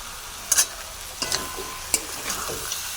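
Snails sauté with garam masala in a hot pan, a steady close sizzle broken by several sharp scrapes and clinks of a spatula stirring, with no talk.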